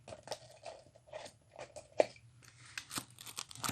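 Playing cards being shuffled for a Cross of Iron board game, giving quick papery riffling bursts and crisp snaps in short irregular runs, close by and fairly quiet.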